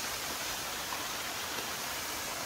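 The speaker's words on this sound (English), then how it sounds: "there is a waterfall known as Twin Waterfall, and here it is" Twin Waterfall at Siddhanath Parvat in Goa pours as a steady, dense roar of falling water, loud and unbroken, with no voices over it.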